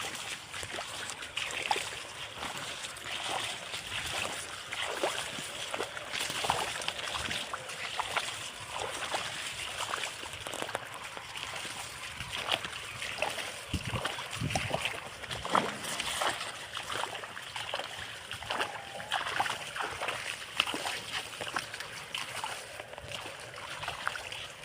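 Irrigation water flowing steadily into a field plot of millet, a continuous broadband rush and trickle with faint splashing that stays even and close throughout, with no voices heard.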